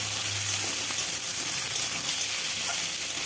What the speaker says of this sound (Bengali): ঝিঙেটা দিয়েও ভালোভাবে নেড়ে দেব।